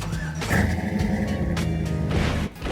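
A street rod engine turns over and catches at a car show held inside a mall, a steady close motor rumble rising briefly before settling, with a short dip near the end.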